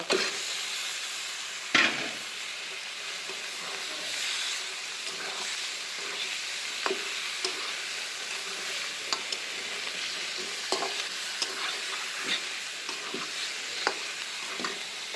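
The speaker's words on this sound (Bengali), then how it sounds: "একটু ভাজা ভাজা হয়ে গেলে এখন মাংসটা দিয়ে দিব" Chicken meat frying and being stirred with spices such as cumin and coriander powder in a pan for a cabbage chicken curry: a steady sizzle broken by repeated scraping clicks of a spatula, close up, with no talking.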